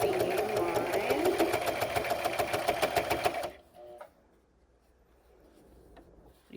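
A sewing machine stitches a bag strap down along its seam line in a rapid, steady run of needle strokes for about three seconds, then stops abruptly, leaving faint handling noises.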